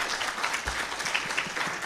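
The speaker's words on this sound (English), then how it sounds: "Just a round of applause for Frank Farrell" A crowd at the REXPO 2020 annual event claps for Frank Farrell. It is a steady, dense round of applause that holds at an even level throughout, with no voices standing out.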